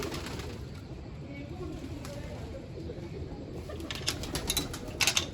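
Pigeons coo softly against a steady outdoor hiss, with a few quick bursts of wing flapping near the end.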